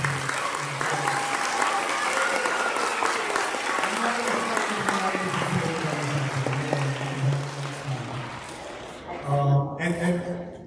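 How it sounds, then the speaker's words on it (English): Sustained applause fills a graduation ceremony hall, a dense crowd clapping continuously with a speaker's amplified voice heard over and after it. "So a big round of applause for Ms. Halpenny."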